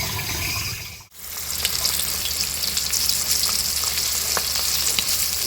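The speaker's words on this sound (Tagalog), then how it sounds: "Igisa na tayo guys." Sautéing in a frying pan, with a loud, dense hiss that cuts briefly near the start and then resumes as steady crackling sizzle.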